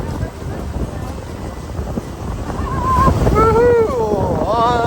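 Strong wind roars and waves rush around a sailboat running downwind near Race Passage, a loud steady blustery wash, with a voice cutting in partway through with rising, excited whooping.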